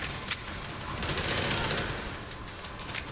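Rapid bursts of gunfire in the video game The Division 2 crackle through a busy, noisy mix, loud and continuous with sharper spikes.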